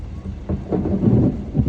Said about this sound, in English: that thunder and lightning a while ago, I caught it in my video